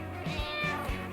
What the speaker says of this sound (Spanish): el maullido de un gato es un sonido breve